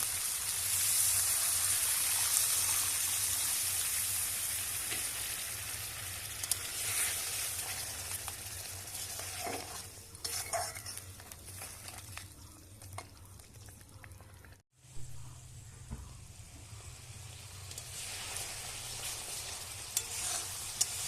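Crab curry cooking in a pan, its masala frying in oil while being stirred, giving a steady close sizzle with scraping and stirring, briefly cut off midway and then resuming, with no talking.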